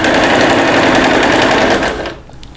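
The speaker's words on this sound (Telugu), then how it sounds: "ఇలా స్టిచ్ చేసి మళ్ళీ నీడిల్ దింపి ఫుట్ పైకని ఇది ఇలా తిప్పుకోవాలన్నమాట" A sewing machine stitching a zipper pocket runs in a fast, steady whirring rattle, loud and close, then slows and stops near the end, followed by a few faint clicks.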